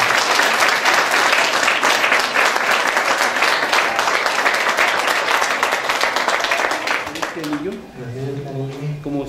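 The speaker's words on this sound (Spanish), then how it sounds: "Vamos a dar un aplauso fuerte." Wedding guests at a church ceremony break into loud, dense applause that holds steady for several seconds, then thins out as a voice begins speaking near the end.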